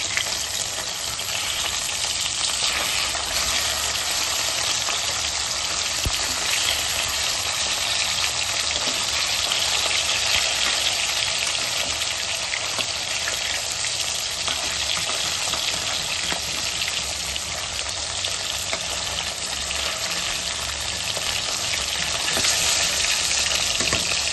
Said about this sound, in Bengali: মাছ আমার দুই দিক দিয়ে ভালো মতন ভাজা হয়ে গেছে